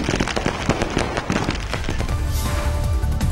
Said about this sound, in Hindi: आसमान में जमकर आतिशबाजी।